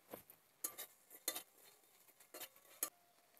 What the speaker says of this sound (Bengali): আমি এখানে শুকনো লঙ্কা, গোটা জিরে, গোটা ধনিয়া নিয়েছি, আমি শুকনো খোলায় ভেজে নেব